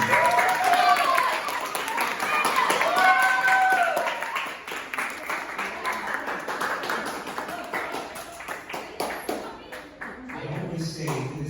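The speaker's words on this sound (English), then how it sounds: "I would like the class to give a round of applause for the parents." A seventh-grade class applauds visiting parents at a school sukkah fair, scattered clapping under a speaking voice at first, then thinning into quieter, irregular claps.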